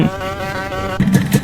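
A Honda NSR 250 motorcycle's exhaust in a Roblox game gives a steady, buzzing engine drone with a thin, rasping tone, revving slightly toward the end; no voices.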